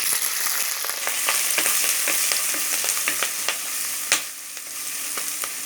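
Ginger, garlic and green chillies frying in hot oil in a clay pot for a potato roast crackle in a close, steady sizzle with repeated sharp pops and one loud snap, with no talking.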